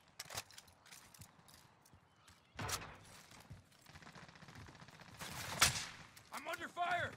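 Gunfire rattles in Call of Duty Warzone, with scattered sharp shots and a dense burst of rapid fire among busy game effects, quiet overall with occasional talk mixed in.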